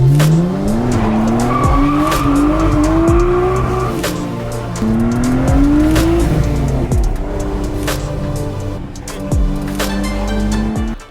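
A Japanese-market car with a suspected over-boosting turbo fault drives along a road, its engine rising and falling through repeated gear pulls, loud and close throughout with occasional tire squeal.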